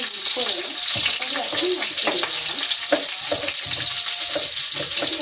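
Garlic and tomato fry in a hot pan for a steady, close sizzle with stirring scrapes, sounding without pause under faint speech-like murmur.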